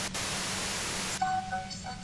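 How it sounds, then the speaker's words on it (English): Harsh, steady static hiss from the Disco Elysium game fills the first second or so, then cuts off abruptly into quieter faint tones and leftover noise. "White noise feels like an aneurysm approaching."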